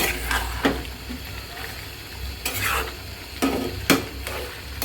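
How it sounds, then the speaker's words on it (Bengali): Onions sizzling in a pan while being stirred, with a few sharp scrapes and clinks of a spatula against the metal at irregular intervals. "পেঁয়াজটা দিয়ে এখন ভালো করে এটা কষিয়ে নিব"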